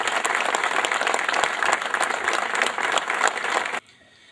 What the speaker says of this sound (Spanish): Fuerte aplauso a todos.